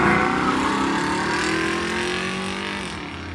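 A Lamborghini at a quarter-mile drag race: a loud, steady engine roar that holds throughout, then fades and recedes slightly at the end.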